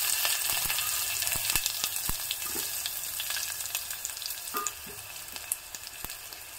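Finely chopped garlic (four or five cloves) and a small onion fry in a pan for Mangalore Brahmin-style tilisaru, giving a steady, bright sizzle with scattered crackles and pops throughout.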